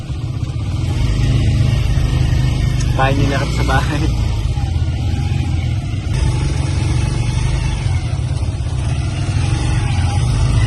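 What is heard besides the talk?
motorized tricycle engine while riding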